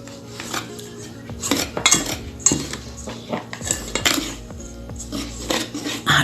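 A utensil stirs ube puto batter of powdered milk, salt and baking powder in a bowl, scraping and clinking against the sides in loud, uneven strokes up close.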